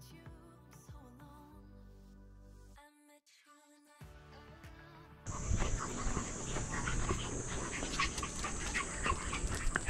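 Dog panting and making small whimpering sounds at a dog-friendly dome tent campsite, with a quiet, close start, a brief cut, then louder breathing against busier background noise.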